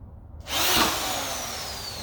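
Power drill driving a screw into wood while building a DIY squat rack, a loud close whirring motor that starts after a brief pause and holds steady with a slowly falling pitch.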